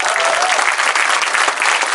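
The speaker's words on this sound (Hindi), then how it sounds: "तालियां जोरदार हो जाओ।" Loud, dense applause from a comedy show audience, steady clapping filling the whole stretch without a break.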